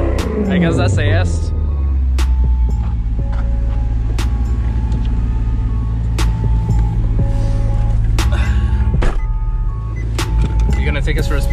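A tuned Maserati GranTurismo S drives along with a steady low engine drone throughout. People talk over it, and scattered clicks and knocks come from inside the cabin.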